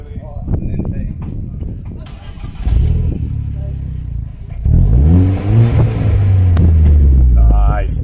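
A Vauxhall Corsa VXR engine revs hard and accelerates, loud and close, its rising exhaust note climbing in stepped surges over several seconds, with people talking alongside.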